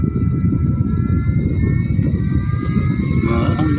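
A small handheld electric fan runs at a high speed setting with a steady, close, breathy whir. A faint whine rises near the end, and no one speaks.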